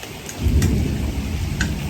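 Thunder rumbles through steady heavy rain in Mumbai, a deep roll swelling near the start and holding under the downpour for a couple of seconds, with no voices.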